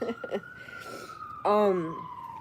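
A siren from an emergency truck passing outside, heard as a steady wailing tone that sweeps slowly downward, then swells louder for a moment before easing off, with brief speech-like sounds near the start.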